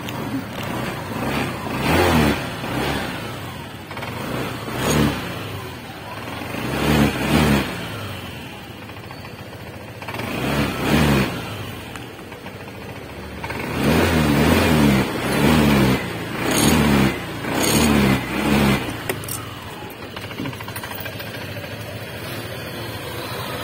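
A car engine that won't push start turns over and revs in repeated bursts, several rising and falling surges separated by quieter idling stretches, close and fairly steady over the whole stretch.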